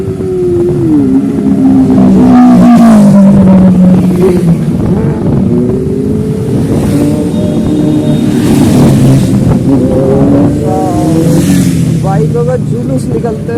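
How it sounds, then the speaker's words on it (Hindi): A procession of motorbikes passes along a road. Several engines rev and drone loudly and close by for the whole stretch, with a person talking over them. "बाइकों का जुलूस निकलते हुए देखा"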